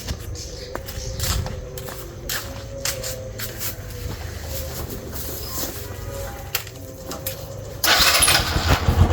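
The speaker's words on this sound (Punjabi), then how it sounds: "ਚਲੋ ਗਾਇਸ ਮੋਟਰਸਾਈਕਲ ਲਾ ਦੀ ਆਪਾਂ ਅੰਦਰ" A motorcycle engine is heard at low level by a gate, idling with occasional knocks and clicks, then revs up louder near the end.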